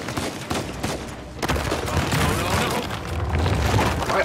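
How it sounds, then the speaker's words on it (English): Gunfire in the action video game Uncharted 4: A Thief's End, a dense, loud barrage of rapid shots and booms that builds after a brief lull near the start. "Stop shooting at me."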